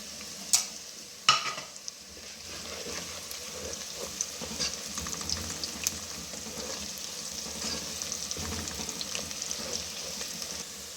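Garlic, black and green cardamom and bay leaves fry in oil in a pan, a steady soft sizzle with a couple of sharp clinks of a spoon or pan at the start and light stirring scrapes throughout.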